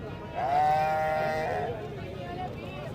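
A Rajanpuri goat at a livestock market in Punjab gives one clear, wavering bleat, close and prominent over market noise and nearby voices.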